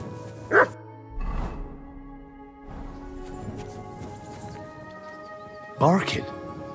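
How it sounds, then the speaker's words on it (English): A dog in the medieval role-playing game Kingdom Come: Deliverance II gives two sharp, fairly loud barks, one near the start and one near the end, with a man's speech and faint ambience between them. "Barking."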